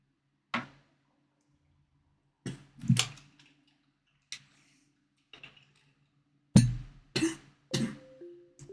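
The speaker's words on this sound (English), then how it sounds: "Sorry for the sick noises. Coughing and all that." Several separate coughs and throat-clearing bursts, short and fairly loud, come with long silent gaps between them over a faint low hum, heard while playing the horror game The Crooked Man.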